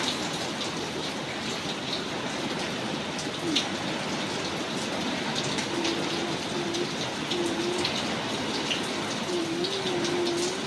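Heavy rain pours steadily in Piduguralla, a dense continuous hiss of falling water with no pauses, and a faint tonal hum occasionally underneath.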